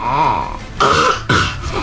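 A few short, breathy coughs from a person close by, spaced out in quick succession with brief pauses between them.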